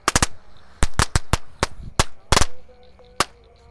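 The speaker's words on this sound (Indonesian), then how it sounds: "untuk pemanasannya kita nyalakan mercon tank guys" A green tank-shaped firecracker set off at night pops in a rapid, irregular string of sharp, loud cracks, some doubled, with brief gaps between bursts and no talking.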